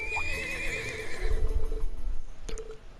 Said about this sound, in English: We bring the horse back to Paula